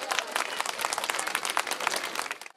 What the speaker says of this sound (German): das ist nochmal ein Applaus wert